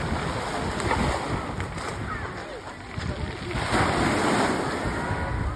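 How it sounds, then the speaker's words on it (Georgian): Sea waves wash steadily onto the beach at Gonio on a calm day, a continuous broad rush of surf with gentle swells, mixed with some wind buffeting the microphone. "არის ბევრად უფრო მშვიდი ზღვა,"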